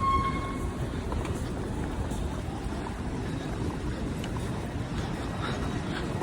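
A train bound for Southampton in England rumbles steadily at close range, a dense continuous roar without pause and no voices.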